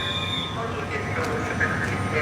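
Steady rumble and hiss of a train standing at a station in Rzeszów, Poland, a continuous mid-loud hum with no distinct events; voices may murmur faintly beneath.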